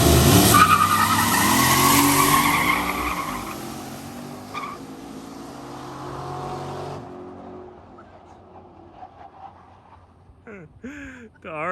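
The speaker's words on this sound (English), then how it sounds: "I had to do a burnout." LS-swapped Chevy Blazer doing a burnout, tires screeching in a loud, sustained squeal that fades over several seconds, followed by quieter engine and background noise with people talking near the end.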